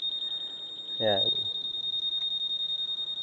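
The anti-theft alarm on a Honda Click125 V4 scooter sounds a steady, piercing high electronic tone with a fast pulsing beep. Someone speaks briefly over it.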